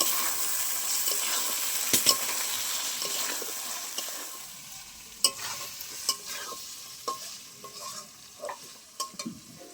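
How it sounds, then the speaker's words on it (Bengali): Boiled eggs sautéing with spices in a pan for egg korma, an even sizzle that fades partway through, then intermittent stirring scrapes and clicks of a spoon, no talking. "যেহেতু আমি ভাজা করিনি, তাই মশলার সাথে একটু কষিয়ে নেবো।"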